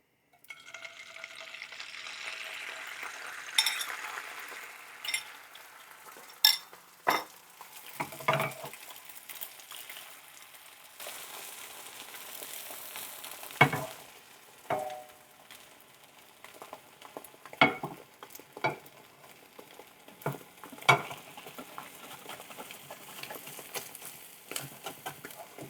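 Egg seasoned with black pepper and fish sauce frying in a thin layer in a pan for pad thai: soft, steady sizzling with scattered crackles and occasional utensil scrapes, quiet and close, no voices.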